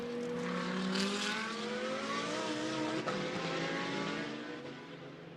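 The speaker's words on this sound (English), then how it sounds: "Brake now for the hairpin, turn through the corner and accelerate out the other side." Mercedes GT2 race car at Hockenheim braking into a hairpin and accelerating out, a loud sustained engine roar with shifting pitch, steady and fairly close, fading slightly at the end.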